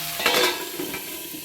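Eggplant fries in an oil-filled pan, giving a steady close sizzle with light stirring scrapes, and no talk over it.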